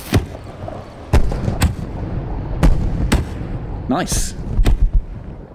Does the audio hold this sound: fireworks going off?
yes